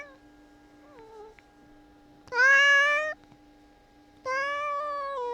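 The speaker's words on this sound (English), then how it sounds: "Shut up, cat." Pet cat meowing nearby, two long, loud, drawn-out meows with a pause between them, over a quiet background of faint game music.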